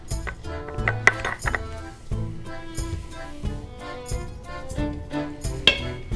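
Garlic, with anchovies, being stirred in an Instant Pot: a run of sharp metallic clinks and taps from the spoon against the pot, scattered irregularly, with a voice faintly present.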